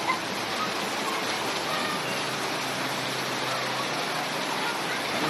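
Flash flood water thick with mud and stones rushes along a street in Cibeureum, Kertasari, a loud, steady roar with no break for the whole stretch.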